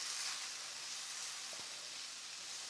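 Bite-sized pieces of pork tenderloin fry in a pan, giving a steady, airy hiss with a faint tap of a utensil partway through.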